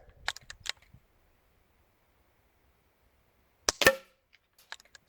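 A BSA Ultra CLX air rifle fires a single sharp, close crack with a brief mechanical clatter after it, set between quiet stretches and a few faint clicks and handling noises.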